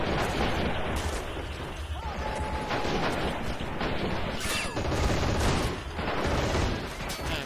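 Dense battlefield gunfire and heavy booms pound against a tank in Men of War Assault Squad 2, with near-constant shooting, explosions and pops layered loudly throughout.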